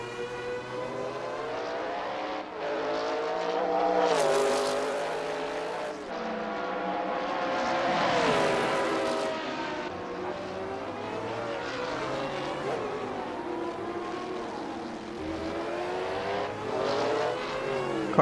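A Mustang or Viper race car engine in the 2000 Grand-Am series at Phoenix drones and revs through gear changes, pitch rising and falling with passing cars over a steady roar.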